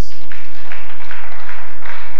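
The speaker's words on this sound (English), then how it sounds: "Clap your hands for Jesus." A church congregation claps its hands in praise during a sermon, a loud, dense and somewhat distorted wash of clapping that runs without a break.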